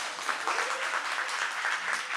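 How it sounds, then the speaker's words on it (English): A workshop audience applauds for a community app launch: a steady wash of many hands clapping, fairly soft and even, sustained for a couple of seconds with no talk. "Give a round of applause for Keep Lab for supporting me."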